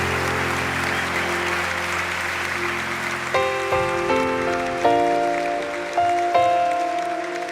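A church congregation claps steadily as a broad, rain-like patter, while sustained keyboard chords and tones swell in over it partway through.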